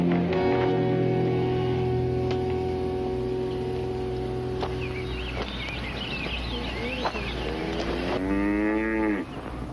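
Cattle in a herd low in long, loud, drawn-out moos that overlap and waver, one bellow rising near the end, with faint birds and insects behind.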